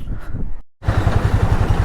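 A Hero Mavrick 440 motorcycle on a test ride rumbles with a low, pulsing engine note. A brief gap of silence cuts in, then the engine returns loud and close.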